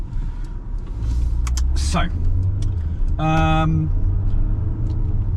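Cabin of a Mercedes GLA 200 while driving, a steady low engine and road rumble throughout, with someone speaking over it and a brief tonal whine partway through.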